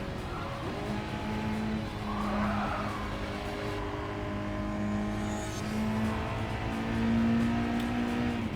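Race car tires squeal and skid under hard braking in Gran Turismo 7, a steady engine drone with recurring tonal tire squeals and faint skidding across the stretch, moderately loud.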